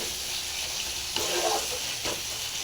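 Spices with red chilli sizzling hard in hot oil for a jackfruit curry, a dense constant frying hiss close by, with a couple of brief stirring scrapes breaking through.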